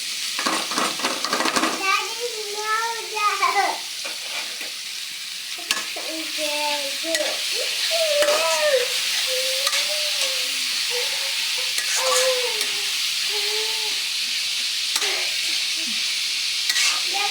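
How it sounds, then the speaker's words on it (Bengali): Chopped onion and green chili frying in oil in a wok, a steady sizzle with stirring scrapes and clinks, while a voice talks or hums over it. "কড়াইতে তেলটা দিয়ে দিলাম মাছ ভাজার জন্য এবারে মধ্যে দেবো পেঁয়াজ কুচি কাঁচামরিচ কুচি"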